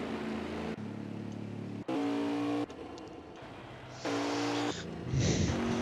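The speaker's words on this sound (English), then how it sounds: "he is trying to do an absolutely massive burnout" A car in a racing video game, an online league race at Auto Club Speedway, doing a burnout: abrupt switching blocks of loud engine drone and revving at varying pitches, with hard cuts between them and no voices.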